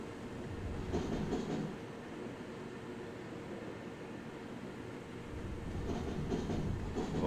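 Simulated train rolling through the station throat approaching Bremen Hauptbahnhof in Train Sim World 3, a steady low rumble of wheels and running gear with faint rhythmic clatter over track joints near the start and end, no voices.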